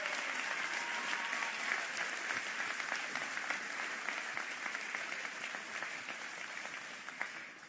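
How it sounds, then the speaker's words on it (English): Sustained audience applause at a city government address in Philadelphia, a dense, steady roar of many hands clapping that holds strongly throughout and tapers slightly near the end. "Give that a huge round of applause"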